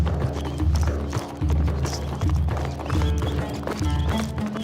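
Steady rhythmic clip-clop of hooves at a brisk pace, close and loud, with a horse whinnying partway through.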